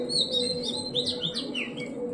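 A pigeon gives several short, high calls that repeat over a steady hum, moderately loud and close.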